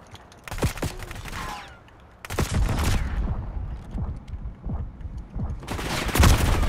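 Gunfire in the video game Black Ops 6: sharp, scattered shots and short bursts, some loud and close, with quieter gaps and background game noise.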